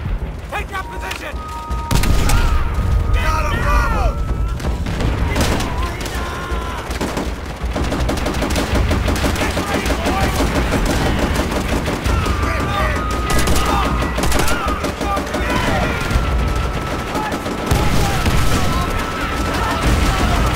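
Machine gun fire from bunkers during a Call of Duty: World at War beach assault, sustained rapid bursts and booming blasts almost without pause, loud and close, with soldiers shouting over the din.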